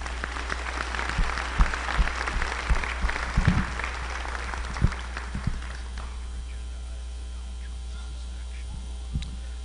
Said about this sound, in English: Let's give these recipients a round of applause